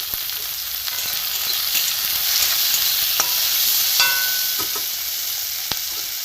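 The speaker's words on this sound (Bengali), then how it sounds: "পেঁয়াজ টমেটো ভাজা ভাজা হচ্ছে" Onion and tomato frying in a pan for a prawn-head bora curry, a dense, steady sizzle with occasional clicks from stirring, close up and without speech.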